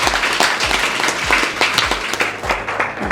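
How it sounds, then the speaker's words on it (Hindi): Loud audience applause at an awards ceremony honouring civil service exam toppers, a crowd clapping vigorously with distinct rhythmic hand claps over a continuous dense wash. "जोरदार तालियां बजाएं।"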